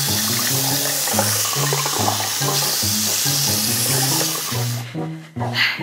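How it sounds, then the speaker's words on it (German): Cold water streams from a tap in a bathroom as a beer face mask is rinsed off, a steady close splashing that runs nearly continuously under music before cutting off near the end. "jetzt wasche ich es nämlich auch noch mit kaltem Wasser"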